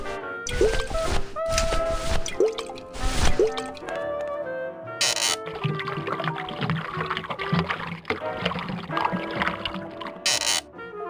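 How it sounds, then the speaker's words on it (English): A drink being poured in the Grim Fandango video game, with drips and liquid splashes mixed into busy game music and effects, with a couple of loud clattering bursts early on. "just pour, chill,"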